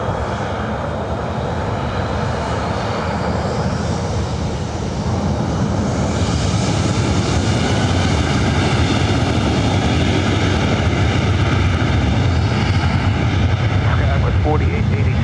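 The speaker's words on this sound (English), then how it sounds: "Getting this flight heading to Sacramento on this 12-year-old 737-700." A 12-year-old Southwest Boeing 737-700 takes off from runway 24 right at LAX, bound for Sacramento, its jet engines swelling into a loud, steady roar with rising whine, heard beneath ongoing talk and radio chatter.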